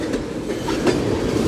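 Union Pacific mixed freight train with tank cars at the head end rolls past Central Avenue, a steady, close, continuous rumble and clatter of wheels on rails with no pauses or voices.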